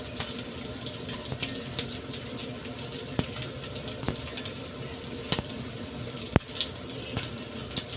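Water runs steadily from a kitchen tap while noodle dishes are being prepared, a soft continuous flow with a few small clinks and knocks standing out.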